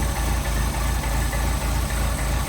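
A Mercedes 190SL engine with a Solex carburetor idles at about 600 to 700 rpm, a steady low rumble with an even, regular pulse, heard close and alone.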